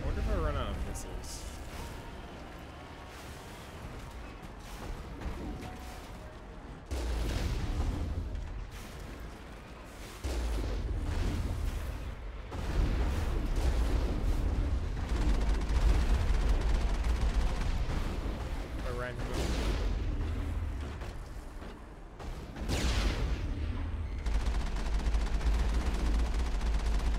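Missile launches and gunfire in the Mass Effect video game, a dense, continuous barrage of game combat blasts and bursts that swell louder in the second half, with no pauses.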